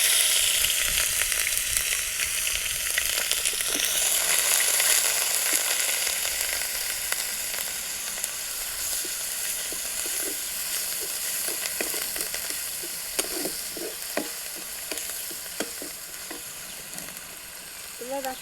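Onion paste frying in hot oil for rui fish kalia, a steady loud sizzle throughout with occasional stirring scrapes and bubbling pops close to the pan.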